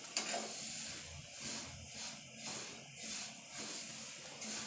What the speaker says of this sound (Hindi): तिल को पहले हमने अच्छी तरह भून लेना है